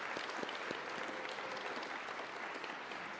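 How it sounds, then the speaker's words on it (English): Audience applause at a fall awards ceremony, clapping for a coach being thanked: steady, dense clapping from a room of people, fairly soft and even throughout with a few sharper claps standing out. "so we can clap for her as well"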